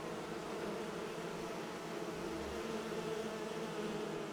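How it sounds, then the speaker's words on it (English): Bees buzz in the fantasy video game Enderal, a faint, continuous insect drone holding steady throughout. "Oh, bees. Bees. Look out, there's bees."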